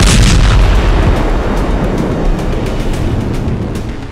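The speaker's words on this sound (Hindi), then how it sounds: "और फिर कुछ सेकंड के बाद हुआ दूसरा धमाका।" A deep, heavy bomb blast in southern Lebanon opens loudly and then rumbles away, its low roar slowly fading over the following seconds.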